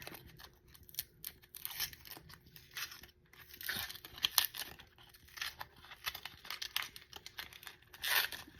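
Papery onion skin peeled off by hand after the ends are cut and the bulb is scored with a knife, heard as faint, close, intermittent crinkling and tearing rustles, no talk.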